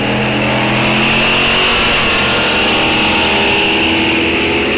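A Studebaker drag racing car at a drag strip revs its engine loud and close, a sustained droning roar with the pitch climbing steadily as it accelerates.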